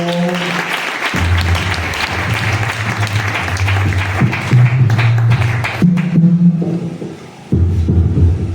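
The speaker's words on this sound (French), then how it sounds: "est-ce qu'on peut l'encourager par nos acclamations?" A church congregation applauds and cheers for a deacon, loud sustained clapping over a steady low keyboard drone that shifts pitch, ending with a brief dip before the tone resumes.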